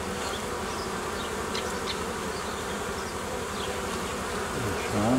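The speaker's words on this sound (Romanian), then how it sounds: "Îndepărtez albina care mai e în zonă." Honey bees buzz around an open hive during a colony merge, a dense continuous hum close at hand with individual bees droning past now and then, and no talking.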